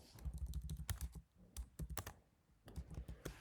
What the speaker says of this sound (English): I'm entering my username